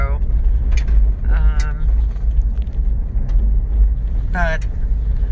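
A car engine labors up a big hill on a fall drive near Mt. Vernon, Ohio, giving a steady, heavy low drone throughout with a few brief higher tonal bursts on top.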